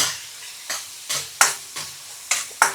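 Broccoli stems and garlic stir-fried in a pan, loud sizzling bursts recurring in a steady rhythm of about seven stir strokes, close up with no talking.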